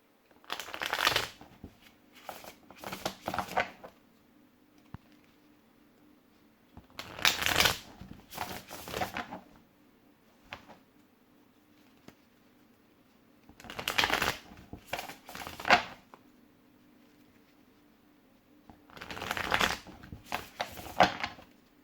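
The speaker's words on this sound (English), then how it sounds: "That was a bad shuffle." Tarot cards are shuffled in four separate bursts of quick riffling and flapping, with quiet pauses between each round.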